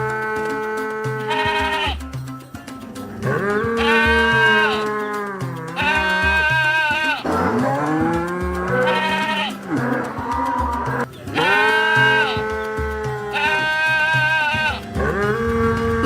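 Sheep bleat loudly and repeatedly, close by, in drawn-out wavering calls that come in overlapping bursts over about sixteen seconds, with brief gaps between groups of cries.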